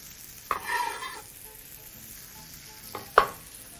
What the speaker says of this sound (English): Proceed to add your red onion.